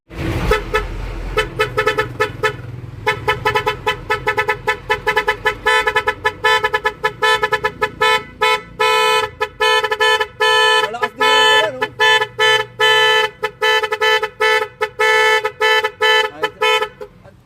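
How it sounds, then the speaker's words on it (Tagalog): A loud electronic music horn on a motorcycle plays a rapid melodic tune, its tones chopping on and off in a fast, repeating pattern close by. "kinabitan natin yan ng uh, music horn"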